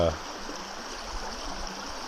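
Franklin Creek's brook flows in a steady, broadband wash of water, constant and fairly close, with a brief voice at the very start.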